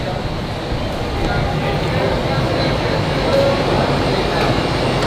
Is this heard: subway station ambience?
yes